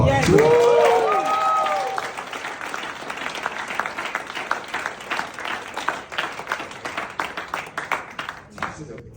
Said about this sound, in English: Let's give Ismail another round of applause